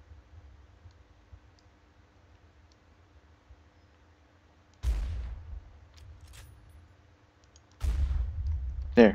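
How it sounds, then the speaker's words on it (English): Gunfire in Fallout New Vegas: two sharp shots ring out several seconds apart over a quiet, low hum, each a sudden crack with a brief echoing tail, followed by a faint click at the end. "Who's shooting me?"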